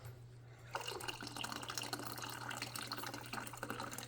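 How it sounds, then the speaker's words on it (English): A splash of water pours into two shots of espresso in a cup, a close, steady liquid stream starting after a short pause and running several seconds without talk. "then I will add just a splash of water"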